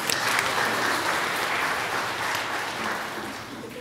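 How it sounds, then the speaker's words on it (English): A church congregation at a Third Sunday in Advent service breaks into steady, sustained applause that fills the room and slowly fades, with a little speech mixed in. "Everybody clap for Cosmo."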